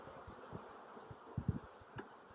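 Honeybees buzz around an open hive in Tennessee in October, a low, steady hum close by with a few louder passes and soft knocks against the heavy wooden boxes. No one talks.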